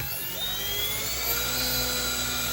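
An RC helicopter motor runs at 90% throttle on the bench, a steady, loud, high-pitched whine with a droning buzz that holds evenly throughout.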